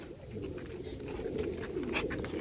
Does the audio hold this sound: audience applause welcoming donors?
no